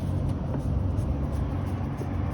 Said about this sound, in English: We're gonna start the vehicle